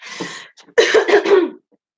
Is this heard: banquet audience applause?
no